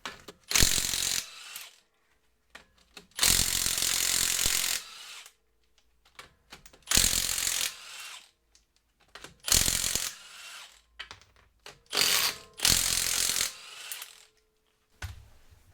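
A ratchet wrench cranks in short bursts of fast, loud clicking while a car wheel is taken off at home during seasonal maintenance, with pauses and small metallic clanks between each run of turns.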